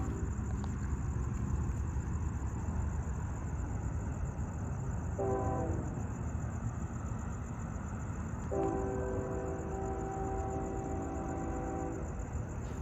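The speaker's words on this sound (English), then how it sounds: "After that horn echo" A CSX freight locomotive, the P&LE heritage unit 1875 leading an intermodal train, sounds its horn at midnight; two sustained tonal blasts stand over a steady rumble of rail noise, echoing from a distance.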